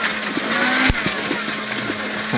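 A rally car at a rallysprint in Awaba, Australia, drives a tight, narrow road, its engine holding a steady, loud drone under tyre and road noise, with one sharp knock partway through.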